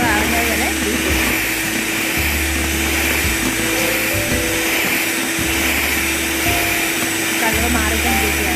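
An electric beater whips a gelatin and sugar marshmallow mixture, its motor giving a steady, close whirring drone that holds throughout while a person talks over it.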